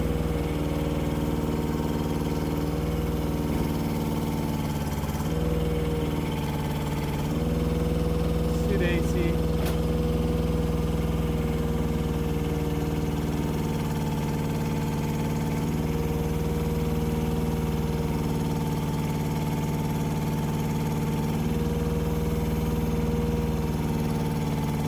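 The engine of a tractor loader idles steadily close by, a low constant rumble with slight shifts in pitch throughout, carrying on under occasional faint background sounds.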